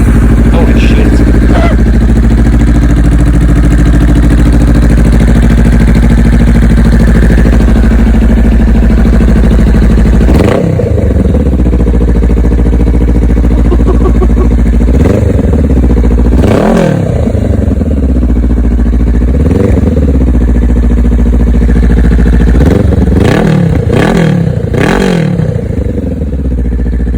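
A Honda Rebel 500 motorcycle fitted with a Musarri aftermarket exhaust idles loudly up close with a deep steady rumble, then is revved in repeated sharp blips, several in quick succession near the end.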